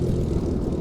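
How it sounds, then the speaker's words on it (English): A Mark 8 Spitfire propeller warbird at the Temora airshow roars loudly and steadily overhead, a dense, continuous engine drone with no speech. "put your hands together for Scotty Tappan of that great demo in the Mark 8 Spitfire."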